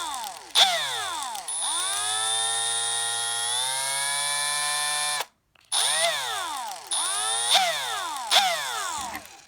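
A Milwaukee Fuel brushless 12 V hammer drill/driver 2404 spinning counterclockwise, its motor whine rising as it spins up and falling as it stops, with several start-stop bursts and a short silent gap, heard alone and close.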